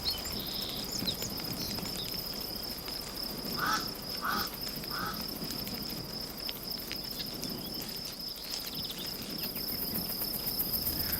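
Mormon crickets massed at a swarming mating site, males calling to draw females: a dense, continuous high insect trill fills the clip alone, with several brief chirping bursts standing out near the middle over a steady outdoor wash.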